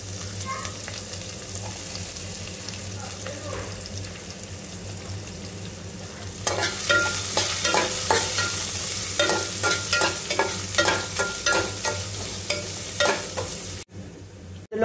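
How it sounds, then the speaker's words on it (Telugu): Onion pieces sizzle and fry in a pan while being stirred for an okra (bendakaya) fry, with a steady hiss that grows louder and busier midway, marked by repeated scraping stir strokes. "ఇలా ఫ్రై అయిన తర్వాత ఇందులోకి ఆనియన్స్ పీసెస్ వేసుకున్న ఆనియన్స్ యాడ్ చేసుకోవాలి"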